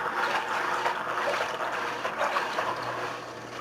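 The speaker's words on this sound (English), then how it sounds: "Put some water in that filter." Water pours steadily into an aquarium filter at a fish tank, a continuous close splashing rush with a gentle gurgle that holds at an even level throughout, with no voices.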